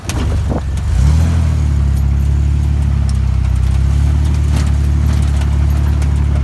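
A car engine rumbles steadily at close range as the vehicle sets off over a rough dirt area, a low droning hum with faint rattles and knocks riding on top.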